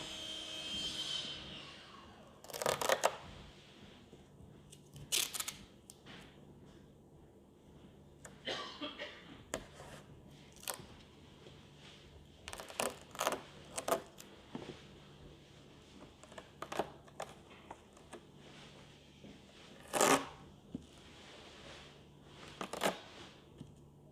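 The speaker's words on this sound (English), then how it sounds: "we're going to be putting down the adhesive within this area that I'm outlining with the masking tape now" Masking tape being pulled off the roll and pressed down to outline an area for adhesive during an aircraft skin bonding repair. Faint, crackly peeling bursts come at irregular intervals with quiet pauses between them, and no one speaks.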